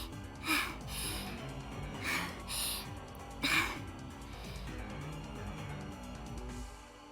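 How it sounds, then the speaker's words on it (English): Heavy, ragged breathing of an exhausted running character in the game Steins;Gate Elite, with several sharp gasping inhales standing out over a low music bed, close and fairly loud. "From the sound of her breathing, she must be at her limit."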